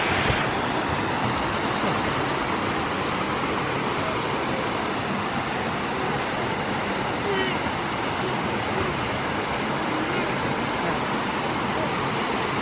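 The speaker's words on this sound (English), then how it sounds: "what a waterfall" Devil's Bridge Falls in the Gilfach nature reserve, a constant loud rushing roar of falling water, close and unbroken, with people talking faintly over it.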